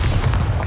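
A Bombarda spell goes off in Hogwarts Legacy as one loud, dense, booming blast that fills the short moment, close and heavy, with no talk.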